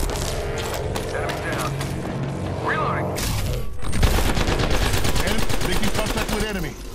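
Rapid automatic gunfire rattles in dense bursts during a fast Apex Legends match, growing heavier and more continuous midway, with game sounds layered underneath.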